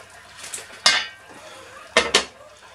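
Beef stroganoff stirred in an oven pot, a few close metallic scrapes and clinks of a spoon against the pot, with a soft clack followed by a quick double knock near the end.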